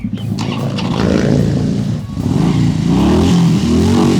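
A Harley-Davidson motorcycle engine revs loudly and close by, its deep rumble rising, dipping briefly near the middle, then climbing again in strong throttle blips.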